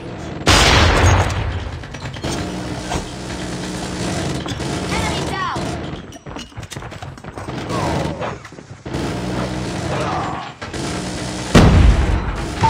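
A sentry gun firing in a video game, with rapid mechanical bursts of gunfire and clanks under game noise throughout. A short loud blast comes at the start and another near the end.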